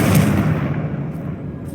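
Confringo blasting curse from the Hogwarts Legacy video game, a single loud, close burst that hits hard at the start and then rumbles and fades over a second or so.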